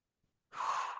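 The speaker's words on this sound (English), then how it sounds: "big deep breath in through your nose" One deep breath drawn audibly in through the nose during a breathing exercise, a soft, close, airy rush that rises quickly and holds steady to the end.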